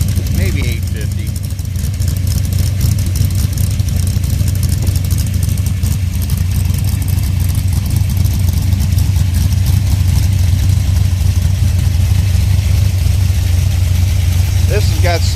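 A Pontiac 455 Ram Air V8 with a solid-lifter camshaft idles at roughly 850 to 900 rpm, a loud, close, steady lumpy rumble that runs unbroken throughout.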